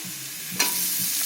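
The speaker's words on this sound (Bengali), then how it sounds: "তার মধ্যে দিয়ে দিতে হবে পেঁয়াজ কুচি পেঁয়াজ কুচিটাও ভালোভাবে ভেজে নিয়ে" Chopped onions frying in hot oil, a steady sizzle that jumps louder as a spatula stirs, with brief scraping touches, close and with no voices.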